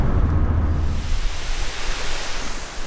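The Saint-Benoît waterfall near the Mont-Cenis pass rushes in a broad, loud roar of falling water, steady and close, with some wind buffeting at the start.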